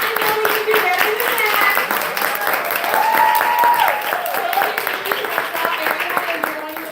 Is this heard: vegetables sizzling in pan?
no